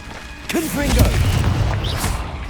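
Confringo blasting spell in Hogwarts Legacy on PS5, a swelling boom with crashing debris and a low rumble. A brief vocal shout sits near the start, and a sharp bright zing comes near the end.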